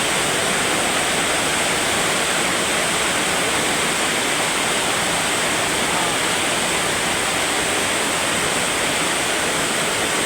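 Heavy rain pounds steadily on a metal roof, a dense, loud roar of hiss that holds unbroken throughout.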